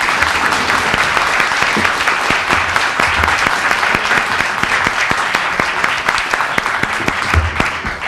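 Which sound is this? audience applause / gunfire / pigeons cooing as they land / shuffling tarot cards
audience applause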